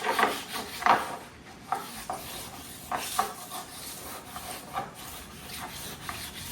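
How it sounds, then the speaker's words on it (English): Hand wet sanding on a van's surface gives a soft, repeated rubbing rasp in short strokes, close and fairly quiet, with a few brighter scuffs standing out. "We're just wet sanding."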